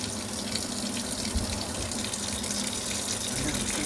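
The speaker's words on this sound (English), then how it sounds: "turn the water on and see how hot it is" An apartment kitchen faucet runs in a steady, close hiss of flowing water into a sink, continuous throughout with no talk.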